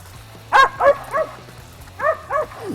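Hunting dogs bark at a tree in a short burst of two groups of sharp barks, a few yelps in each group, close and loud with a break between groups.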